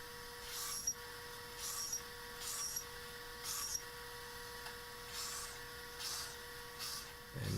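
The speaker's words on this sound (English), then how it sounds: "I've set my depth stop on the drill press to the appropriate depth." A drill press cuts plugs in cedar, with a steady motor hum and a series of regular, evenly spaced bursts of cutting noise, faint and alone.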